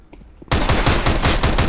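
Sudden loud burst of rapid gunfire in a competitive shooter match, dense overlapping shots starting after a brief quiet moment and continuing steadily, close and intense with no voices.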